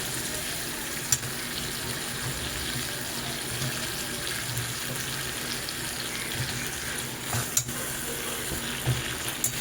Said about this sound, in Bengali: এইবার আমি যে বেগুনগুলোকে কেটে রেখেছিলাম সেই বেগুনগুলো এতে দিয়ে দেবো